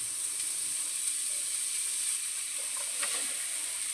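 Chopped onions fry in a hot pan for a chana masala gravy, giving a steady, loud, close sizzle and hiss that runs without a break, with faint crackles rising now and then.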